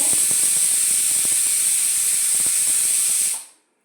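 Pressure cooker hisses steadily with escaping steam while boiling grated carrots for carrot halwa, a loud continuous hiss with faint rattling clicks, cutting off near the end.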